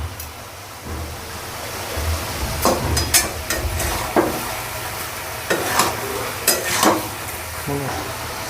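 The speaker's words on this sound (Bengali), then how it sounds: "এবার রসুনটা দিয়ে আমি আর একটু কিছুক্ষণ ধরে নাড়াবো।" Mutton frying with garlic in a pan is stirred, giving a steady sizzle with scattered sharp scraping clinks of the spoon against the pan, close by.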